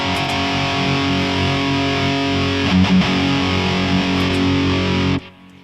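Distorted electric guitar lead tone played through a Kemper amp profiler with a BE100 profile pack, sustained and loud for about five seconds before cutting off abruptly, with no talking.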